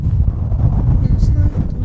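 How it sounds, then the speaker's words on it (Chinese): Strong wind buffeting the microphone on Iceland's south coast, a loud continuous low rumble with gusts throughout, with a voice briefly heard through it. "真系好大风，好冻啊！"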